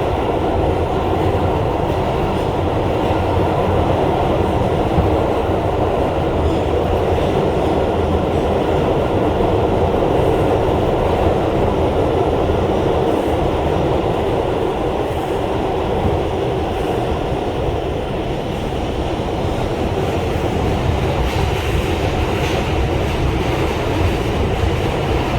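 An NYC Subway R142 5 train on an express run roars steadily and loudly from inside the car, a constant rumble with faint wheel clatter and no pauses.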